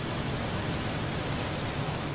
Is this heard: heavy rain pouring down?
yes